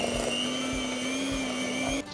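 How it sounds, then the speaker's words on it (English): Electric mixer beating butter and caster sugar for traditional shortbread, a steady whirring hum with a sustained motor whine that runs evenly throughout, then shifts pitch at the very end. "we're going to beat it with an electric mixer"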